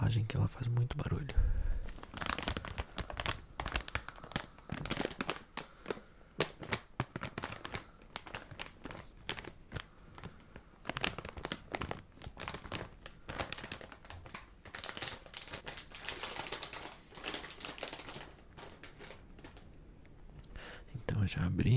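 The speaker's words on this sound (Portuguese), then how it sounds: "Tomar cuidado com a embalagem que ela faz muito barulho." Cebolitos snack bag packaging crinkling and rustling in close, dense bursts throughout, with soft whispery handling noises and faint speech-like sounds mixed in.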